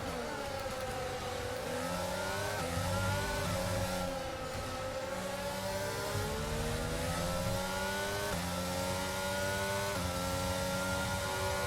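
Racing engine of an F1 car in the F1 22 video game at Imola, droning loudly and continuously with shifting pitch as it runs short on power, with no talk over it.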